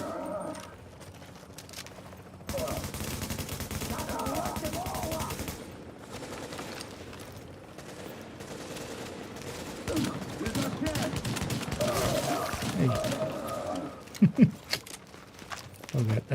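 Gunfire from The Division video game, a shotgun among it, rattles in dense bursts with sharp peaks near the end, set against constant game noise and talk.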